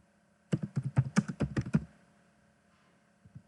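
Quick run of about a dozen crisp keystrokes on a Dell Inspiron laptop keyboard, close and fairly quiet, lasting just over a second before a near-silent pause and one faint final tap.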